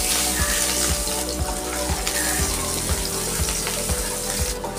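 Garlic and green chillies frying in a small amount of oil in a pan, with a steady crackling sizzle, close and alone.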